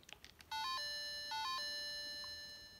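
Game Boy Advance sound demo program running from an EZFlash cartridge, playing clean electronic beeps: a short two-step pitch sequence repeated twice, then a sustained ringing tone, preceded by faint clicks.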